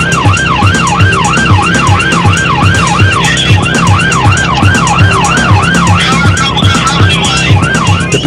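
A Portuguese police car's siren wails loud and close in a steady, rapidly cycling rise and fall during a high-speed chase of burglars in a van, with road and engine noise running beneath it throughout.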